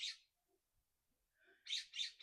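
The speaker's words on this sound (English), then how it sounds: "look at this bird, y'all." A loud bird lets out a sharp, harsh squawk, falls quiet, then repeats it in two or three close raucous bursts, near and clear with no talking.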